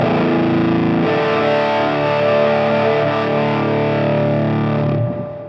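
Electric guitar through a fuzz effect on a Fractal Audio Axe FX III, playing a thick, distorted sustained chord that rings loud and steady, then cuts off near the end.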